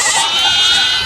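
Baby goat in a credit card debt advert, one sustained high wavering bleat, loud and close and heard alone.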